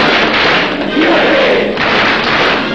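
A Masonic lodge ritual opening with the triple battery of claps and acclamation: a loud, dense room sound of many participants, thumping claps and massed voices blending throughout.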